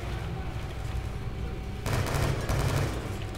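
Rapid bursts of Call of Duty: Black Ops II gunfire crackle continuously, growing louder and denser partway through, with a faint voice underneath.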